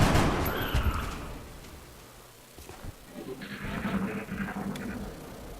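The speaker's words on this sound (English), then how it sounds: "so it looks like we have to shoot him" Gunfire shooting an enemy in the video game XCOM: Enemy Unknown, a loud burst of shots at the start followed by rumbling game effects.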